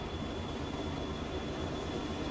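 A train runs through the Red River Valley map in Farming Simulator 19, giving a constant, fairly quiet rumble of wheels and cars on rail that never changes.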